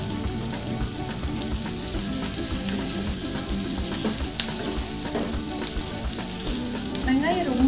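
Curry leaves hitting hot oil with softened onions for a potato gravy, a loud, steady, close sizzle that runs throughout, with occasional scraping and clicking from stirring.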